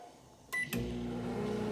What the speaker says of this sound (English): you're gonna want to put this in the microwave for about a minute